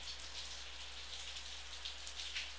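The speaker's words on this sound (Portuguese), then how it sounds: "Olha a chuva" Steady rain falls continuously with a soft, even hiss of drops on surfaces, faint and unbroken, with no voices.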